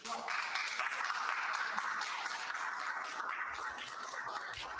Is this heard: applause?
yes